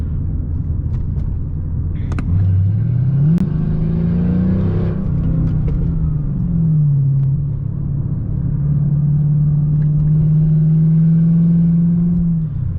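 A Mercedes CL500 coupe with a 5.0 V8 engine while driving: a deep rumble that revs up sharply through a gear change, then settles into a steady, loud cruising drone inside the cabin.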